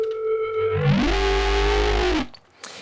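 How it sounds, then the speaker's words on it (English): A distorted, buzzy synth bass note in a Cyberpunk 2077 style, with chorus and OTT compression, glides down in pitch and holds, wide and heavily processed, then cuts off abruptly. "I've added some distortion, some chorus for some stereo width, and an OTT"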